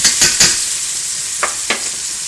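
Garlic fries in a pan for Greek shrimp pasta, a constant hiss of sizzling broken by a few sharp scraping stirs, two quick ones at the start and two more shortly after.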